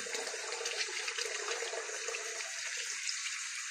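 White grapes are rinsed under a running kitchen tap, a continuous bright hiss and splash of flowing water that stays steady and close throughout, with no talking.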